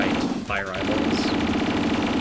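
Laser fire in a fan-made video game, rapid repeated blasts in a dense burst, with a short swooping tone cutting in midway.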